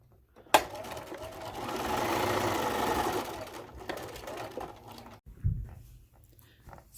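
A sewing machine stitches fabric in a steady rapid whir lasting a few seconds, close and moderately quiet, then slows and stops with a couple of clunks before near silence.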